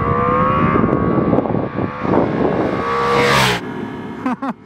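A Ducati Multistrada V4 Pikes Peak motorcycle rides through Arizona back country, its engine droning loud and close with shifting revs, rising into a surge before cutting off, then a few brief sharp sounds at the end.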